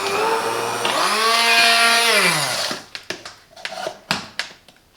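A Silvercrest SSMD 1000 digital hand blender mixing food with salt, pepper and olive oil, a loud motor whine that rises in pitch, holds and then winds down, followed by several sharp clacks and knocks.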